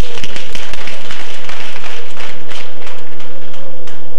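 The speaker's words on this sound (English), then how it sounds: "Give yourself a round of applause." Very loud, clipped round of applause from an audience at a cooperative society's anniversary event, dense clapping sustained across the whole stretch.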